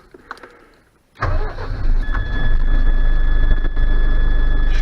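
A truck with a 5-speed manual, not started since September, cranks briefly after a few clicks and then fires into a loud, steady idle with a faint whine, close by and with no talk.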